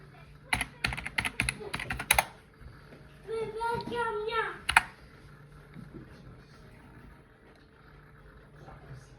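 Close, rapid bursts of clicks from a computer keyboard being typed on during a Windows 8 restoration, in two clusters around a short stretch of other sound, then near quiet.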